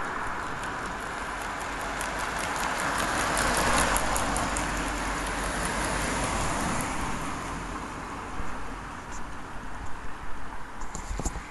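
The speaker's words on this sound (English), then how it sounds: "wait for these cars to pass" Cars pass on a road through Tuolumne Meadows. A steady broad roar and hiss swells as a vehicle goes by, with wind-like noise throughout and no talk.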